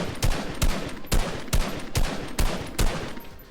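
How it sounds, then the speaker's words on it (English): Assault rifle tap-fired in Fortnite: loud, evenly spaced single gunshots, about eight in a row roughly every half second, sharp and close with short decays. "It's much better to be crouching, so your first shot accuracy is a lot better, and tap firing."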